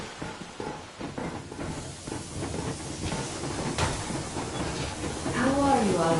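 A steam train rolls along in the video game Metro Exodus, with rhythmic rail clatter and hissing steam, a whistle rising near the end, and voices talking over it.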